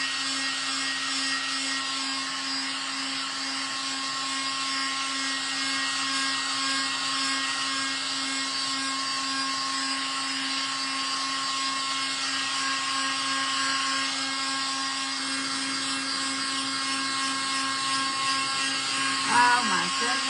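A handheld drying tool blows steadily and loudly over paint on a tea towel, a constant whirring hum that barely changes from start to finish.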